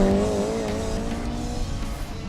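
A car at a Circuit of the Americas autocross accelerates hard uphill through the finish, its engine note climbing under heavy throttle with tire noise and a sustained loud roar.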